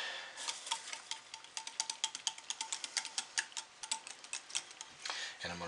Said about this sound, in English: Gonna whisk it in.